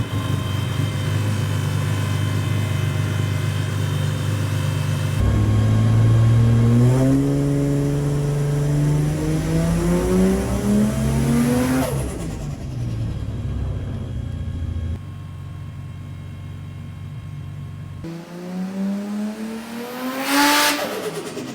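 Bedford fitted with a turbocharged Barra engine pulls hard through several gears, each rising wail cut by a shift, deep and loud from inside or near the vehicle, with a final sharp rev at the end.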